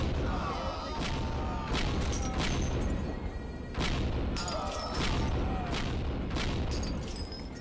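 Repeated cannon blasts from porch-mounted cannons in the tower defense game Defend the Highlands, a steady barrage of loud, booming shots roughly every second or so over a dense, continuous game soundscape.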